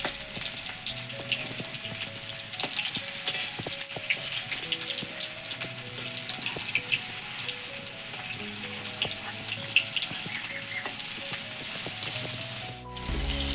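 Mushroom pakoras fry in a pan of oil, a soft, continuous bubbling sizzle with scattered pops and a few light clicks near the end, heard close up with no talking.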